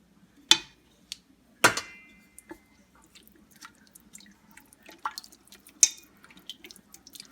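Spoon clinking against a pot while stirring homemade pasta sauce of tomato paste and liquid, a few sharp metallic taps followed by softer scattered scraping clicks, close and alone.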